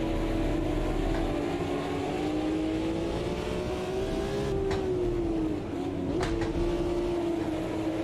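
A BMW race car in the Automobilista 2 racing game, driven at Spielberg, holds a steady loud engine note that rises and dips with gear changes, continuous throughout with no talking.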